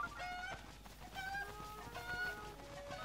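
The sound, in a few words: chicken clucking in Zelda Breath of the Wild video game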